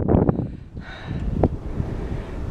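Wind gusting at an outdoor campsite during sunset, a steady low rumble of buffeting against the microphone with a few louder bursts, fairly loud throughout.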